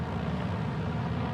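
A Volocopter air taxi drone flying low during a 2019 test at Singapore's Marina Bay gives off a steady low droning hum, a continuous rotor noise heard from some distance with no voices over it.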